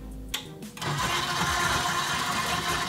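Stand mixer starting up and then running steadily at low speed, blending butter and flour into a sandy dough; a close, continuous motor whir follows a couple of short clicks at the start.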